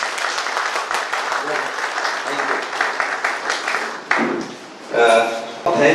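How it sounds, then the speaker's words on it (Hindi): Hall audience at a school safety training session in Raipur gives loud, close applause that cuts off abruptly, followed by short bursts of a voice between brief claps. "तो एक बार मैं चाहूंगा कि उनके लिए जोरदार तालियां हो।"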